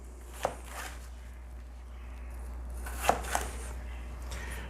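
Knife slicing through peppers on a cutting board while preparing chicken with black bean sauce, a few distinct sharp cuts: one early, then two in quick succession later, over quiet kitchen background noise.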